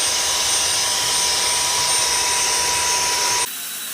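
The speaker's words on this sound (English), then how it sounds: "grab your vacuum cleaner, get a dust brush on the end of it and just give it a vacuum" A vacuum cleaner fitted with a dust brush runs steadily while cleaning an air conditioner filter, a loud, constant whine that continues alone and then cuts off abruptly near the end.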